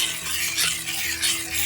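Scone batter with baking soda is stirred in a bowl, a steady soft scraping swish with rhythmic surges, close and alone.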